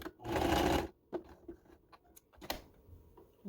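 A sewing machine stitches a T-shirt fabric scrunchie or headband in one loud, steady burst of about a second, then stops, followed by quieter handling clicks and taps.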